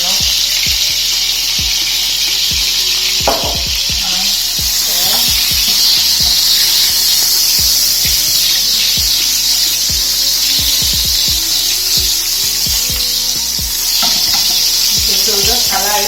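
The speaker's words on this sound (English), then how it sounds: "So while this is frying, yeah, it's frying very nice on low heat." Sausages fry gently with rosemary in a pan on low heat, a steady close sizzle with occasional stirring scrapes and clatters.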